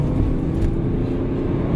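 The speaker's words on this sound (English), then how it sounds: "Remaps has been done. I'm going to take it for a test drive." A remapped BMW 330d M Sport diesel on a test drive in normal mode, with a steady, loud, low engine and road rumble heard from inside the cabin and no talking.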